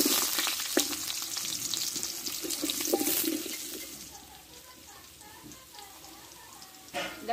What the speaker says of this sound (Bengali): দেখো, এই তেলে আমি 2টো শুকনো লঙ্কা দিয়ে দেবো, আর দেবো একটা তেজপাতা, আর দেবো কিছুটা গোটা জিরে দিয়ে আলুটা আমি কষে নেবো ভালো করে